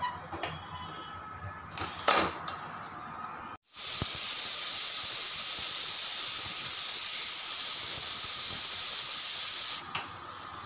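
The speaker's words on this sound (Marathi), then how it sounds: "इथे आपल्या कुकरच्या शिट्ट्या झालेल्या आहेत" A pressure cooker holding fresh rajma beans lets out one long, loud, high steam whistle and hiss that lasts about six seconds. It follows a few quieter kitchen clinks and then eases into a softer hiss.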